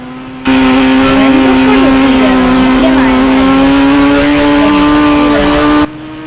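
A vehicle engine in the video game Indian Bike Driving 3D drones loudly and steadily at a fixed pitch. It starts abruptly and cuts off sharply near the end, with small wavering revs along the way.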